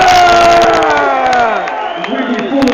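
A big concert crowd at a show roars back together in a loud, drawn-out collective shout, with many voices swelling and fading into cheering.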